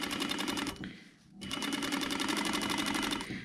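A sewing machine stitches around a shape with a centimetre seam allowance through two layers of fabric and wadding, a close, steady rapid whirr that pauses briefly partway through and then resumes.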